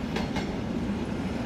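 A Class 37 diesel locomotive hauls a test car and a freight wagon along a heritage line, a steady rumbling roll with a couple of rhythmic wheel clacks early on, close and fairly loud.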